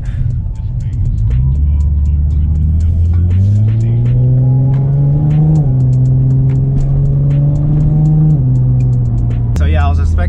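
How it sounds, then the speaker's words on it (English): A Lexus IS 350 idles and pulls away, its engine rising and falling in pitch through a slow U-turn at a dead end. The engine stays close and steady throughout, with faint clicks over it. "I just reached a dead end right now, so I'm gonna just do a quick U-turn."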